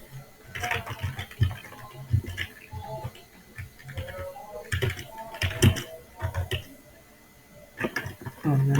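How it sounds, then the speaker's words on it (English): Clicking on a computer keyboard during a programming lesson, with short irregular bursts of keystrokes close by, mixed in with a person speaking. "Let me type"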